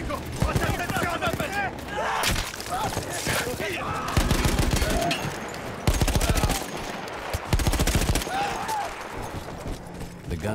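Heavy anti-aircraft gun fire in the Battlefield 1 Italian campaign sounds in loud repeated bursts of booming shots, mixed with other gunfire and battle noise, while voices shout over the fighting.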